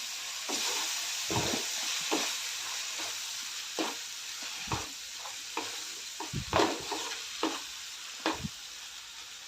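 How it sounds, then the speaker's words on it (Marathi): Masala paste of ginger, garlic, tomato and coconut fries in hot oil with a steady sizzle, while a spoon scrapes and stirs through it in repeated close clacks and swishes. "हे वाटण चांगलं परतून घेऊया तेल सुटेपर्यंत सर्व परतून घ्यायचं आहे"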